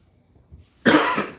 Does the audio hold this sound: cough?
yes